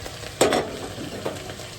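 Mushrooms stir-fried on high heat in an outdoor kitchen: a low frying hiss broken by two short scraping stirs or tosses, near and fairly quiet, with no talk.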